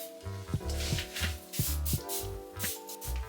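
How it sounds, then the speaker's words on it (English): A hand spray bottle spritzes water onto the scalp of someone with locs, several quick hissing pumps in a loose rhythm, close up, over faint background music. "I'm gonna start off by spraying my scalp first"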